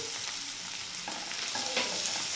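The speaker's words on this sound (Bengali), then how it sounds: "প্রথমে আমি এই পেঁয়াজটাকে একটু ভেজে নেব।" Onions with turmeric being fried and stirred in a pan, giving a quiet continuous sizzle with a few soft scraping stir strokes over a short stretch.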